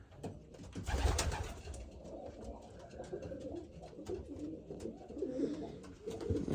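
Racing pigeon cocks coo steadily inside a loft, overlapping calls rising and falling at moderate loudness with no pause.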